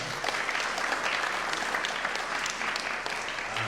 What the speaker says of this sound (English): we can give a round of applause for them